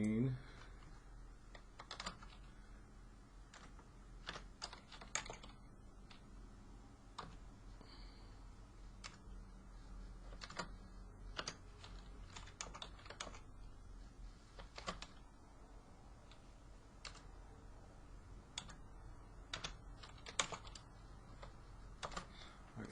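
Quiet, steady typing on a computer keyboard, an irregular patter of light key clicks running throughout with brief pauses between bursts.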